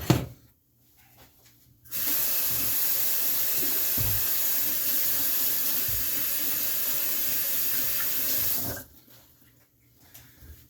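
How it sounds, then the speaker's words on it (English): A kitchen tap runs steadily for about seven seconds while hands are washed under it, a broad even rush of water between quiet moments at the start and end. "Now I'm just going to wash my hands"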